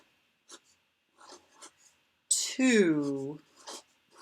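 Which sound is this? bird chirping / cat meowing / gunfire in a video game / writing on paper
writing on paper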